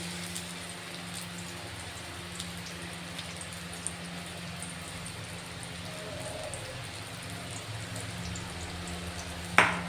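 Small fish-roe fritters fry slowly over low heat in a pan, giving a faint, steady sizzle with light crackles and pops, followed near the end by one sharp clink.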